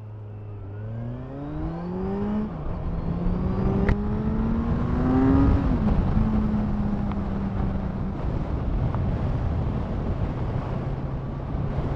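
A 2018 Kawasaki Z1000SX motorcycle engine pulls while riding, its smooth drone rising through the revs in a couple of climbing sweeps, then settling to a steady hum under wind rush.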